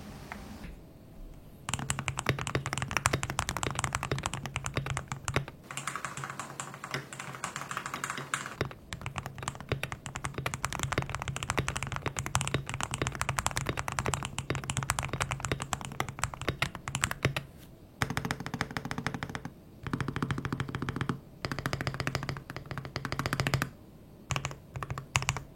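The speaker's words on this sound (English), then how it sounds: "Now up next is the typing test for the TTC Magnetos." Steady, dense typing on a TTC Magnetos magnetic-switch (HE) keyboard with box stems, a continuous rapid patter of keystrokes with brief pauses, close and alone with no talking.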